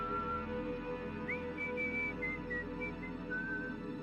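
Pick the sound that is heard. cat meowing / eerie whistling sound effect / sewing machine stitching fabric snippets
eerie whistling sound effect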